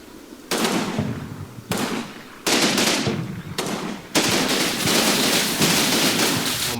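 Automatic machine gun fire in the video game Combat Mission Normandy comes in several long, loud, close bursts separated by brief pauses, with no talking over it.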